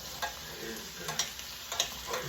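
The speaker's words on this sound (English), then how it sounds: "We are basting." Salmon basting in butter in a hot pan, a close, steady sizzle and frying crackle with soft spoon strokes recurring every half second or so.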